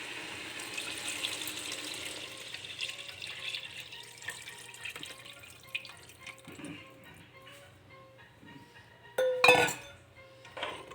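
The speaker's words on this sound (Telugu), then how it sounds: "మనం ఏదైతే ముందుగుంట తీసుకొని ఉంచామో చింతపండు వాటరు యాడ్ చేస్తాం" Tamarind water poured into a pan of fried fish curry masala, heard as a steady watery splash and sizzle with faint clinks of utensils, ending in a brief louder clatter near the close.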